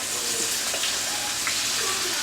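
A shredded-potato hash brown sizzles steadily in a hot pan for a breakfast sandwich, a continuous bright frying hiss with no talk over it.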